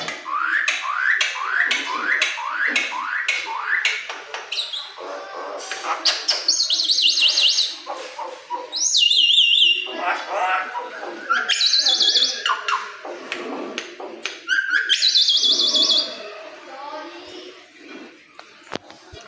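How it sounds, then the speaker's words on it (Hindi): Myna bird calls repeatedly at close range, a varied run of loud chirps, whistles and rapid tweets, with short pauses between phrases. "व्लॉग की शुरुआत ही मैना के बोलने से हो गई।"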